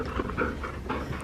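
An excited dog pants rapidly and breathily up close, a quick continuous rhythm of short huffs with no talking.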